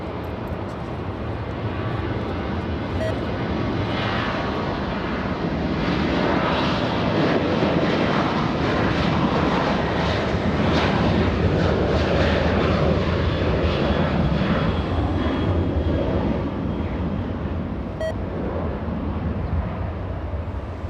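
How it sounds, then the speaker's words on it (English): A Lufthansa Boeing 747 jet airliner taking off from runway 24 left at LAX, a loud continuous engine roar that holds steady and swells slightly as it goes, with no voices. "we're going to go for the Lufthansa 747"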